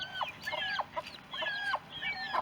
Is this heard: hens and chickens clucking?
yes